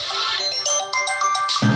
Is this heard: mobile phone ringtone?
yes